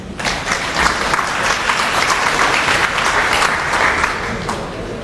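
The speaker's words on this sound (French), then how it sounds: "nous allons maintenant écouter la leçon inaugurale qui va être prononcée par le professeur Koudikan sous vos applaudissements, s'il vous plaît" Audience applause at the Dakar international literature festival, steady and full, a dense crowd clapping continuously for about five seconds at close range with no speech over it.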